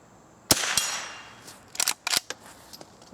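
Sharp cracks from a Henry Golden Boy .22 rimfire rifle fired outdoors at targets: one loud report, a fainter one just after, then a quick cluster of several snappy shots, with quiet gaps between them.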